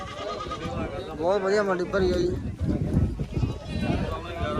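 Goats bleat with wavering cries amid a noisy goat market in Dhanaula, Punjab, someone talking over the bustle.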